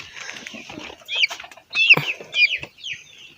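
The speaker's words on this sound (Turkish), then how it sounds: "Bu da ya tavuk mu horoz mu tam belli değil ama tavuk gibi ya." A chicken clucks up close in a few short, loud bursts, with fainter rustling and scratching between them.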